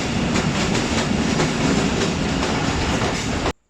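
The Thal Express, a private passenger train in Pakistan on the Rawalpindi to Mianwali line, rumbles loudly and steadily along the rails with a rhythmic clickety-clack of wheels, heard up close from on board until it cuts off abruptly.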